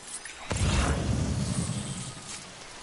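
Steady rain hisses broadly in the video game Death Stranding, starting abruptly and continuing as an even, close wash of noise with no talk over it.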